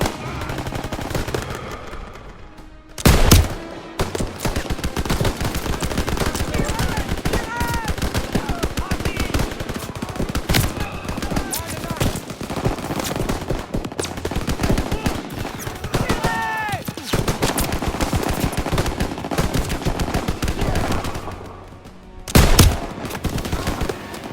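Sustained machine-gun fire from a half-track turret in the World War II shooter Call of Duty WWII, dense rapid bursts running nearly the whole time with a couple of louder blasts and mixed battle noise.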